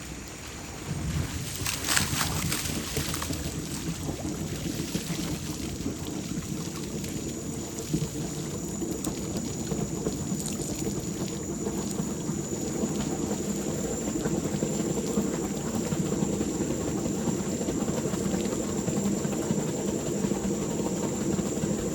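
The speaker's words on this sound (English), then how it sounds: "You're going to hear the blower." A cyclone blower clearing out swimming pool lines at the skimmer during a DIY pool closing, a loud continuous roaring rush of air that holds steady for the whole stretch.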